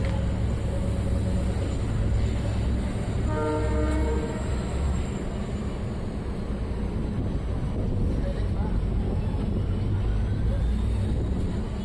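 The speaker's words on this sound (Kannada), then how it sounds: "ಮರಿಯಮ್ಮನಹಳ್ಳಿ ರೈಲ್ವೆ ಸ್ಟೇಷನಿಂದ ಹೊರಟಿದೆ ನಮ್ಮ ರೈಲು" A DEMU train pulls out of Mariyammanahalli railway station with a steady loud rumble and wind rush throughout, and a short horn blast partway through.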